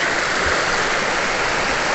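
A river runs past its bank in Abra, a loud steady rushing of flowing water with a dense, unbroken hiss and no voices.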